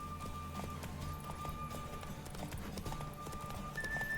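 Roach the horse gallops in The Witcher 3, producing a continuous rapid clip-clop of hooves with game music and ambience underneath.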